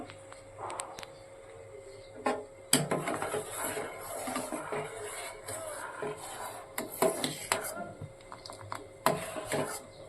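Payesh (rice pudding) being cooked, with a utensil scraping and clinking against a pot in steady stirring and occasional sharper knocks, close by, with faint voices in the background.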